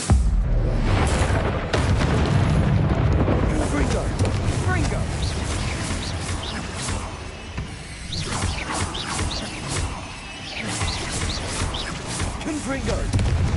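Confringo blasting spells going off in the Hogwarts Legacy video game, a steady run of booming, rumbling blasts with crackling debris, dense and loud throughout, with a voice speaking over the explosions.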